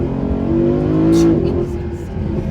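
A Mercedes-Benz SLS AMG sports car engine revs hard while driving, its loud tone climbing steeply past 7,000 rpm and then easing off, heard close from inside.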